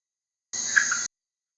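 A red-eyed tree frog (Agalychnis callidryas) gives one short, clear double-note croak, a quick chack-chack burst heard alone against silence.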